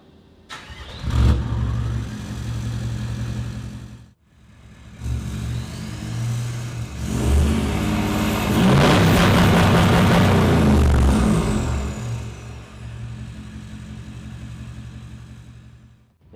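Toyota Land Cruiser VDJ79 turbo-diesel fitted with a straight-through 4-inch exhaust with no mufflers, starting up and then revving hard in several loud, close bursts that swell to a sustained roar before settling back to a rumbling idle.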